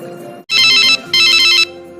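A phone rings in two loud, bright bursts separated by a short gap, close and clear with no talking over it.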